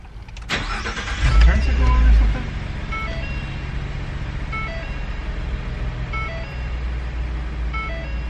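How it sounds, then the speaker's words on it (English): A car engine cranks and catches, its loud starter burst and rev lasting about a second before settling into a steady idle, with a repeating electronic chime and people talking over it. "Alright, start up the car."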